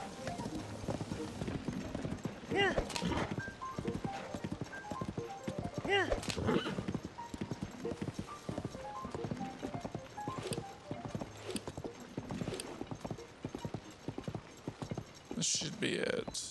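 Horse hooves clip-clopping at a gallop with whinnying and neighs in the video game Tears of the Kingdom, set in the Gerudo Desert, steady rhythmic hoofbeats throughout with a player talking over them.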